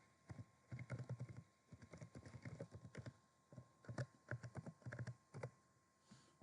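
Password being typed on a computer keyboard, quick clusters of close key clicks in uneven bursts with short pauses, quiet, no talking.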